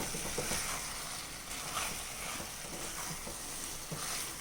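Kappa chicken biryani cooked with coconut oil is stirred in a pan, a steady sizzle with repeated scraping and clinks of the spoon throughout.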